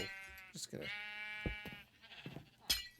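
A bleating sheep in Minecraft, heard as one clear, wavering baa with a second shorter one, fairly close and loud in a quiet game scene.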